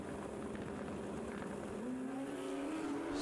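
Two turbocharged Suzuki Hayabusa drag bikes race down a drag strip at a championship meet, a loud, steady engine roar rising in pitch as they pull away.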